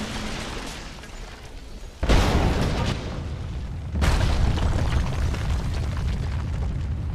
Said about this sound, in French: un coup d'explosion